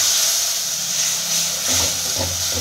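Spice paste with cashew paste frying in a pan for a raw banana kofta curry, a steady loud hiss and sizzle throughout with a few soft stirring bumps near the end.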